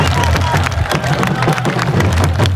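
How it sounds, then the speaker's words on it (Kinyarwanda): Loud, dense applause fills the space at a celebration in Kinigi, Musanze, with a continuous wash of clapping from a large crowd and scattered louder claps throughout. "amashyi yanyu menshi cyane."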